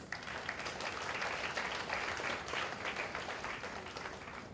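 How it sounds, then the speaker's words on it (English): An audience applauds, a dense, steady wash of clapping that carries on throughout. "they deserve a huge round of applause"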